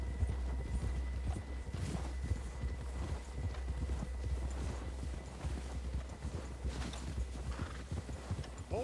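A horse gallops in Red Dead Redemption 2, a rapid, even clip-clop of hooves with a neigh or two mixed in, moderately close over a low rumbling game soundscape.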